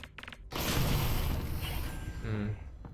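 In the virtual reality game Half-Life: Alyx, objects smash and break in a sudden loud burst of crashing, shattering debris that sustains as a dense, noisy clatter for a couple of seconds.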